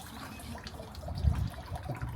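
Clear cold water runs and trickles as hands are washed under it outdoors, a soft close splashing flow with a brief fuller gush midway, fairly quiet.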